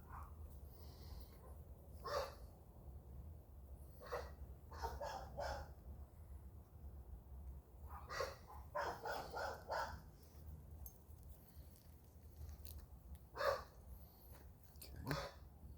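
Dogs bark outdoors in scattered bursts of sharp barks and yips, fairly faint and distant, with quiet gaps between them over a low background rumble.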